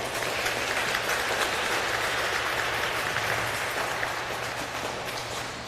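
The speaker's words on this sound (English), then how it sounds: "Let's give our speaker a round of applause" Audience at an intermediate school Veterans Day program applauds for a speaker, a steady, sustained wash of clapping from a full room that fades slightly at the end, with no voices over it.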